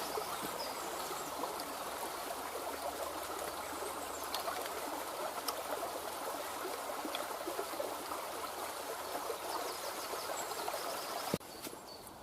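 River water flows steadily around a sharpening stone set in the current, a continuous close trickling and babbling rush with faint bird calls, ending with a small splash-like shift near the end.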